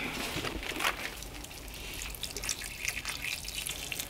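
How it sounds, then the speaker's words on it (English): Water taken from a sink in a greenhouse splashes and trickles steadily onto potted plants, a faint continuous pour with small drips and no talk. "and water my plants really good"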